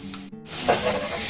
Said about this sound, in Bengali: তো এইভাবে দেখুন ভেজে দিচ্ছি, এবার তুলে নেব।